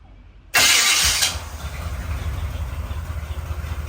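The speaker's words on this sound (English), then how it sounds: "it sounds like it's got a little bit of a starter cry" A 1978 Corvette engine cranks with a slight starter whine and fires with a sudden loud roar, then settles into a rough, rumbling idle through a straight-pipe exhaust.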